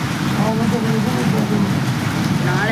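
Steady rain patters loudly and continuously while a person talks over it.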